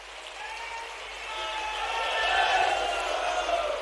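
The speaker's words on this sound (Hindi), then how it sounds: "विश्वास जी और रामेश्वर जी के लिए जोरदार ताली बजाओ" Audience applause at a stadium inauguration event in Bhopal, a sustained wash of clapping from a large crowd that swells toward the middle and holds steady, heard at a moderate distance.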